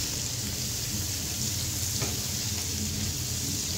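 Spiced masala of coriander powder frying covered on a low flame for chana dal, a steady soft sizzle with fine crackle running evenly throughout, close and continuous with no voices.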